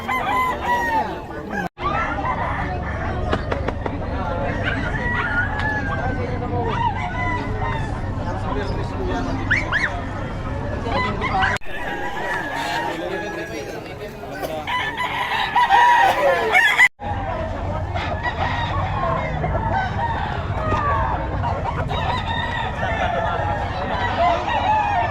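Several roosters crow repeatedly at a busy chicken market in Bocaue, with clucking fowl and a murmur of crowd babble throughout, the crows loud and close.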